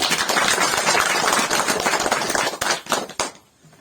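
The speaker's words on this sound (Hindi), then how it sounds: "तो एक बार जोरदार तालियां।" Loud, dense applause from a training-session audience fills the room, steady claps that thin out into a few scattered final claps before falling quiet.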